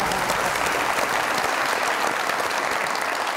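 Dense, steady applause from a studio audience at a Pakistani comedy talk show, filling the short stretch evenly with no speech over it.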